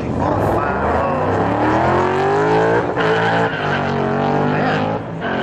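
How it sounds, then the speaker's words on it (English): A car on a drag strip at a car show event roars loudly with a rising engine whine, breaking into a brief squeal of tire spin as it shifts gears, then pulling hard again. "he has a wheel spin every time he shifts"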